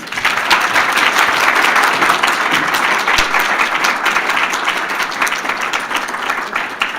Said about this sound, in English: Let's give our inductees another round of applause.